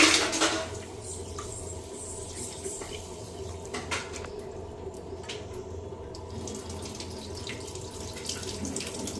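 Moong dal and rice being washed in a bowl: water sloshes and trickles steadily with light swirling and occasional splashes, fairly close and moderately quiet, with no talk over it.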